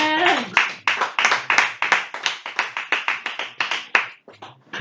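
A church congregation claps together in a fast, steady rhythm of many sharp, close hand claps that runs through the whole moment, then thins out at the end.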